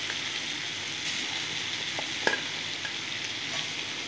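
Tomatoes sautéing with ginger and cumin powder in a pan, a steady close sizzle with a few soft scrapes and taps of a spoon stirring, no voices.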